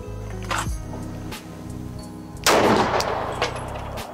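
Handgun shots fired after drawing from concealment on a range: a sharp report early and a louder, heavier blast midway, both close and punchy, over a background of faint rustling.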